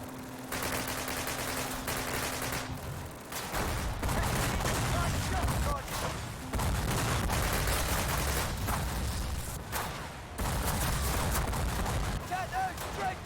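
Heavy flak gun fire in Call of Duty 1, repeated booming bursts pounding away in a steady rhythm over a noisy wartime battlefield, with voices shouting in between.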